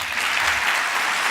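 An audience at a neurolinguistic programming congress breaks into steady applause after a talk, a dense, even wash of clapping that holds at moderate loudness throughout.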